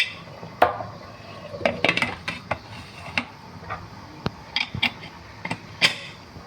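Metal clicks and clanks as a pressure cooker lid is fitted and turned into place, a series of sharp, close taps spaced irregularly with no talking.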